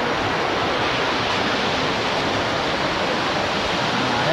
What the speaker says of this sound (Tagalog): Ngayon, tatawid tayo sa isang ilog.